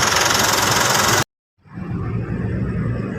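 Mitsubishi Strada pickup engine running on a test drive, a loud steady rumble with road and wind noise that cuts out briefly, then returns and holds at a constant drone.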